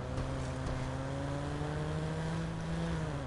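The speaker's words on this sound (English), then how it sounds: "This honestly sounds like a Supra" A Toyota Supra engine in Watch Dogs hums steadily at a sustained, slightly rising pitch, loud and close under road noise, with no talk.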